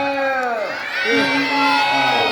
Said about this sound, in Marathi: एक वेळ टाळ्या झाल्या पाहिजे